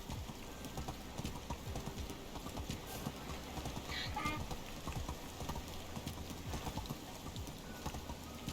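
Donkey hooves clip-clopping in the medieval survival game Medieval Dynasty, a steady rapid stream of close hoof beats with a faint whinny-like cry partway through.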